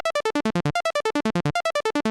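Synth arpeggio run through Ableton's built-in arpeggiator for a hardstyle lead: rapid, evenly spaced bright notes stepping downward in repeating descending patterns, loud and alone.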